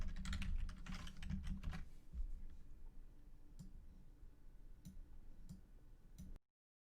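Typing on a computer keyboard, with rapid soft clicks grouped in bursts at first and then sparser single taps, close and quiet with no one speaking.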